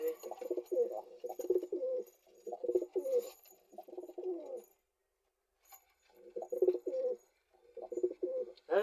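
A pair of pigeons confined in a box coo in repeated bursts of soft, burbling calls up close, the phrases separated by a couple of short silent gaps.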